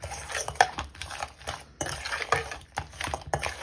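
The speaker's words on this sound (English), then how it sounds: "We're gonna mix." A big serving spoon stirring Liberian pepper crab ingredients in a pot, irregular close scraping and clinking strokes with short pauses between them, fairly quiet and without talk.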